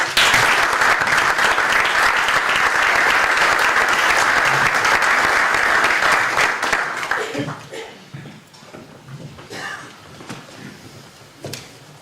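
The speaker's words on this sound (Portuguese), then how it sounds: "Uma salva de palmas para Carlos Abreu Mourinho" Sustained applause from an audience at a political campaign information session in Portugal, loud and dense for about seven seconds before thinning into scattered claps and faint murmuring.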